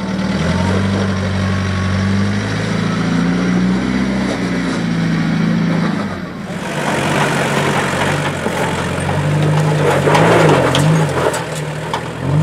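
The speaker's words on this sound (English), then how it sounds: "especially on rocks you sometimes just need to spin gently and give the tires a chance to grip" A 4x4 off-road vehicle crawls over rocks, its engine revving and droning in rising and falling pitches as the tires spin and grind, loud and close, with people talking over it.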